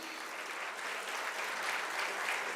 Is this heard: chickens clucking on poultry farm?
no